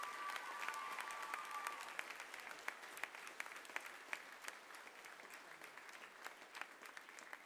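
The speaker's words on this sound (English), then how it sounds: "Please join me in giving these wonderful students another round of applause." Audience applause for students at a school prizegiving, a steady wash of many hands clapping that tapers slightly, heard at moderate distance with no voices over it.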